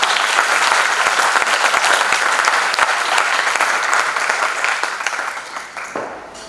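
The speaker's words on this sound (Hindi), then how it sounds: "एक बार जोरदार तालियां।" Loud, sustained applause from an audience at a Lok Kala Akademy event at LNMU Darbhanga, a dense crowd clapping evenly for several seconds before tapering off at the end.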